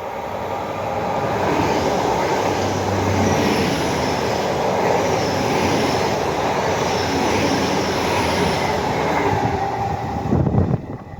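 A steady rumbling roar of a train passing nearby, sustained for several seconds before a brief clatter near the end.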